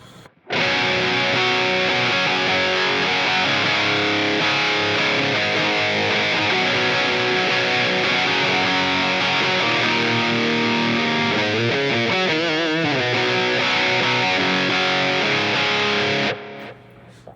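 Distorted electric guitar playing a steady rhythm part through a Line 6 Helix with a Scream 808 tube screamer into two amps, a thick, loud, sustained tone running alone for about sixteen seconds before cutting off.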